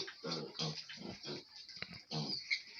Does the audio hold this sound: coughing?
no